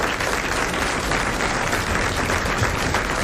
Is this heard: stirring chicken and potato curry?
no